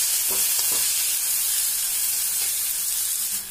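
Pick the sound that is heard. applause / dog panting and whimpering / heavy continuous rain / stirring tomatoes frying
stirring tomatoes frying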